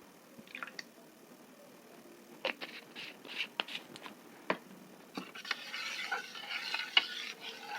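Homemade neem soap mixture with a little essential oil stirred by hand, giving soft scraping and squishy swirls that grow into a steadier wet churning toward the end, with no talking.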